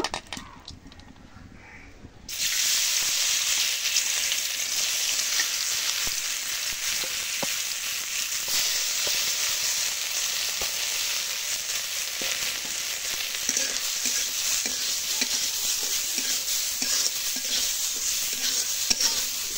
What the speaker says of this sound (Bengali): কড়াইয়ে সামান্য একটু তেল দিয়ে দিচ্ছি মুগ ডালগুলো ভাজার জন্য